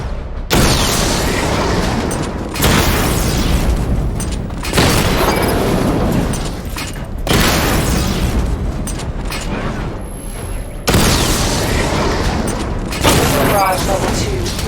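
Repeated heavy booms from a missile barrage in the Batman: Arkham Knight video game, several loud sustained bursts of explosive rumble separated by brief gaps, with game voices in the mix.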